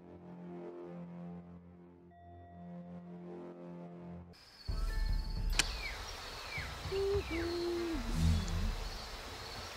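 Bird calls in the video game Shadow Tactics: Blades of the Shogun: after a stretch of soft music, an outdoor ambience opens with a few short chirping calls over a steady background wash.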